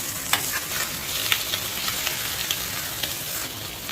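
Bun slices fry in a hot pan with a steady, close sizzle and crackle that runs unbroken, with small sharp pops scattered through it and no talking.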